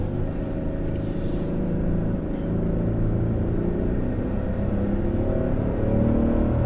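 A turbocharged 2022 pickup truck, either a Toyota Tundra or a Chevy Silverado, accelerates hard uphill on a public road while towing a travel trailer, giving a steady, loud, deep engine drone and rumble inside the cab.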